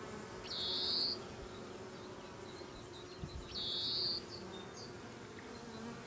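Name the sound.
honey bees buzzing around a queenless hive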